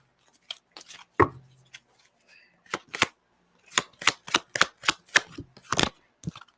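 Cards being shuffled by hand, a series of sharp, separate snaps and taps, irregular at first and then quicker, close and clear with no talking.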